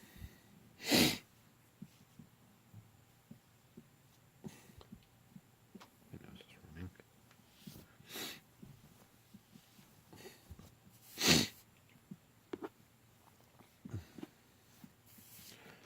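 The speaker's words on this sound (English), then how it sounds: "I just had a really bad sneezing fit" Several sharp sneezes burst out one after another at irregular intervals, with quiet snuffling and breathing between them.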